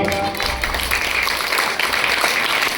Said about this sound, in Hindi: आपको तालियां बजा के मुझे सूचित करिएगा